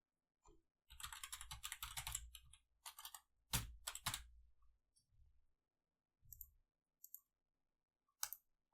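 Quiet bursts of typing on a computer keyboard during JavaScript coding in a Django project, with a flurry of fast clicking keys followed by a few separate taps and pauses, alone with no voices.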